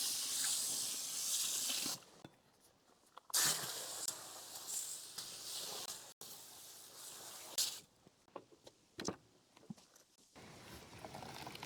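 Water spray rinses a car, a broad hissing rush that comes in several bursts, starting and stopping with brief quieter gaps between passes.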